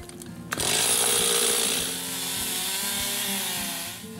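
Chainsaw cutting into a tree for natural edge furniture work: a sharp start, then a loud, close, continuous buzzing whine that bogs slightly as it bites into the wood.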